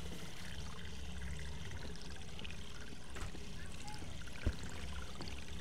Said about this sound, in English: there's water flowing to the thing